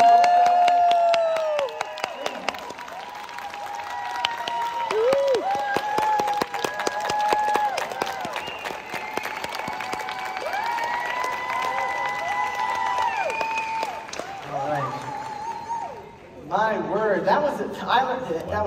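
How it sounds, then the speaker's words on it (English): Panel audience claps and cheers at length, with whoops and shouting voices including children, loud and sustained before dipping briefly and picking up again near the end. "can we give another round of applause to the Bradys?"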